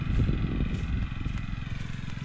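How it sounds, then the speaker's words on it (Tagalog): An engine that has sat unused for a long time struggles to start, a steady rough low rumble of a running or cranking motor close by for a couple of seconds, with no talk. "Hirap pa kuhanin yung makina."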